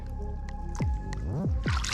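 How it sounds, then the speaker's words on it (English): A bass is let go back into pond water with a wet squishing splash and dripping sloshes, several quick close watery gurgles that build toward a final splash. "let's get him back in the water"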